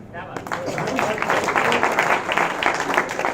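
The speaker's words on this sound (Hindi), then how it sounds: "आपने मेरी शायरियों पर तालियां बजाई, मेरी हास्य व्यंगी कविता पर ताली बजाई।" An audience claps and applauds after a comic poetry performance, a dense, steady wash of clapping that swells after a brief quiet start, with some voices mixed in.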